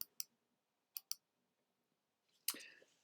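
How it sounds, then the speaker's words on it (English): Mouse clicks in a quiet room: two quick clicks, then another pair about a second later, followed by a louder click and brief rustle near the end. "We just click on the create new Rhino account."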